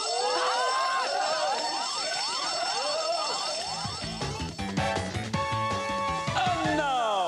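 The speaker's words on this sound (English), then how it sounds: "Now for one final special effect, the fire alarm." A fire alarm sound effect played from a soundtrack in a 1996 television studio, loud and continuous, with warbling rising-and-falling tones that give way to dense, shrill ringing and electronic bleeps.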